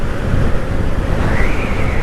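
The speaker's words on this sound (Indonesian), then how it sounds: "anginnya gede banget" Strong wind roaring steadily into the microphone on a rural road past cornfields in Lumajang, a loud, continuous buffeting rush with no voices.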